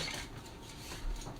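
A wooden spoon is picked up from among kitchen utensils, producing a soft clatter and light knocking of wood against other tools, close and fairly quiet.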